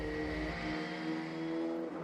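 An autonomous race car sweeps past on a qualifying lap under the lights, its loud engine whine holding a high steady tone with a slight pitch drop as it passes close by.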